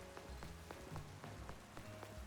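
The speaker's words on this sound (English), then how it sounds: "Hey, Chandelier, are you comfortable in the rain?" Steady rain patters across the ground in Pokémon Legends Z-A, a dense, even hiss with scattered drop ticks and faint game tones underneath, continuous for the whole stretch.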